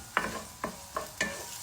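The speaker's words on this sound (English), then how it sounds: "We are just going to saute this and give it some color." Onions being sautéed in a pan, four quiet spoon strokes and scrapes against the pan over a faint sizzle, close and soft, with no talk.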